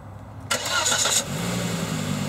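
A Volvo C70 convertible with automatic gearbox starts up: a brief loud cranking burst, then the engine catches and settles into a smooth, quiet idle, close by with no voices.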